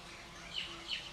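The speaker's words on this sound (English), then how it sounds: "the birds often join us" Birds chirp outdoors during a choir gathering in Nairobi, two faint high tweets over a quiet background hum with no voices.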